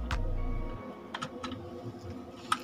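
Keys clack on a computer keyboard while text is entered into an editing program, a few separate close taps after a brief low rumble, with one sharper keystroke near the end.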